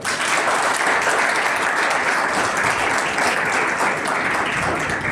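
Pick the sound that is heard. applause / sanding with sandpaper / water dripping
applause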